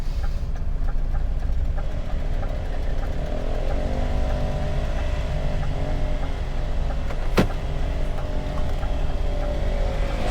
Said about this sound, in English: doing a burnout